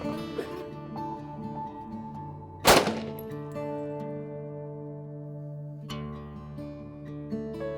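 A single loud handgun shot cracks out at a shooting range, fired at a target during a defensive handgun training course. It is sharp and close, and it rings out over a steady tonal hum and background sound.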